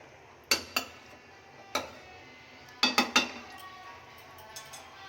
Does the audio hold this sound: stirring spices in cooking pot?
yes